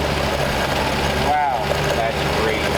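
1939 Ford convertible, long abandoned, running after starting, a loud steady low idle with rough vibration, heard close with people talking over it.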